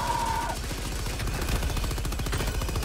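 Automated sentry turret in Helldivers 2 firing a rapid, steady stream of loud shots in close succession throughout, with other battle noise mixed in.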